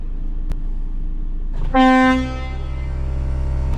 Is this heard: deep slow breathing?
no